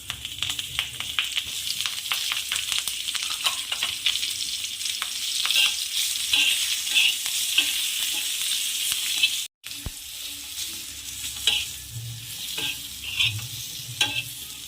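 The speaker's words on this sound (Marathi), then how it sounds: "आता मी तेल टाकलं आहे तव्यामध्ये आता फ्राय करून घ्यायचं आहे" Green chillies fry in oil in a pan with a steady crackling sizzle and frequent stirring scrapes, close and loud, a brief dropout near the end and no talk.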